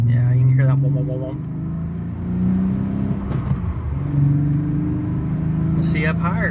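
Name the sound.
car engine misfiring, booming under acceleration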